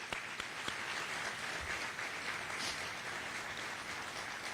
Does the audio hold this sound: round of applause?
yes